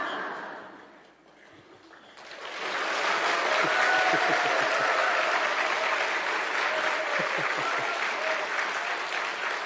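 Audience applause in a church, a steady wash of clapping from a modest congregation that swells in after a quiet start and holds at full strength to the end.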